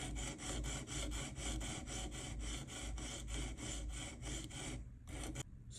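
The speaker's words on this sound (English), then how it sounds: "now we just start filing" Steady back-and-forth rasping of sandpaper on a clamped platinum ring, rhythmic strokes about twice a second, close and continuous, slowing near the end.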